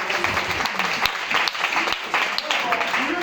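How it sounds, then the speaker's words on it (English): Church congregation clapping hands together in a steady, dense wash of applause, filling the room without a break; voices murmur faintly underneath. "please clap your hands for her for me."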